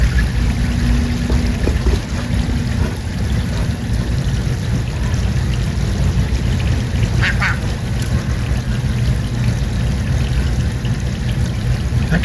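Duck quacking amid a loud, constant rushing background, the calls rough and repeated, nearby but partly masked.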